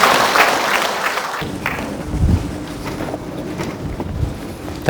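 A seated audience at a lecture on ADHD claps to welcome a Korean medicine clinic director, moderate applause that fades gradually over several seconds.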